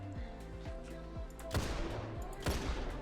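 Last Word hand cannon firing in Destiny, with several rapid, loud gunshots in quick bursts, each followed by a ringing decay, over a constant game hum.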